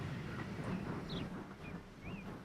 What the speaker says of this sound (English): Bit of first person as we pass another train. Another cargo train.